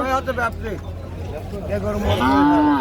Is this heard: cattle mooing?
yes